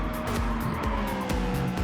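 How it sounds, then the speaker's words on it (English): Race car tyres squeal through a tight corner during a feature race at a high-speed circuit, a brief loud screech over the roaring engine of a close passing car. "Tyres squealing angrily."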